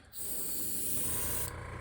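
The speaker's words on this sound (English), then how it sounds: "I like to spray it on the sides too." A close, steady hiss of spraying Toxic Crackle paint thinned with reducer runs for just over a second before cutting off abruptly.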